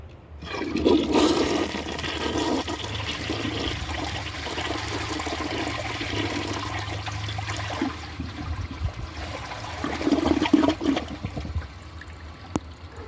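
A toilet flushes with a steady rushing of water that carries on for several seconds, then a gurgle and refilling trickle near the end.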